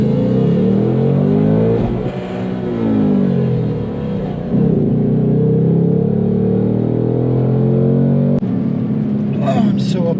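A 2024 Mustang Dark Horse launching down a dragstrip, its engine revving and climbing through rising gear pulls with brief dips at shifts, loud and close, with some talk near the end.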